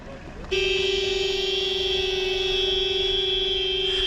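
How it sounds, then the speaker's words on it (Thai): A car horn on a busy street in India sounds as one loud, sustained blast that starts suddenly and holds steadily to the end, over faint background traffic. "นี่คือความอินเดียนะคะ อะไรก็คือ บีบแตรกันไว้ก่อน"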